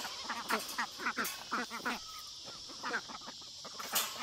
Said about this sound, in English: And watch the ducks.